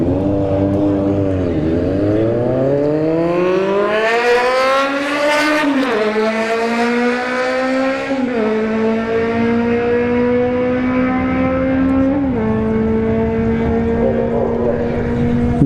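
A Kawasaki motorcycle races a drag strip at Bradenton Motorsports Park with its engine screaming high, pitch climbing steeply through several sharp gear shifts. The sound is loud, sustained and close.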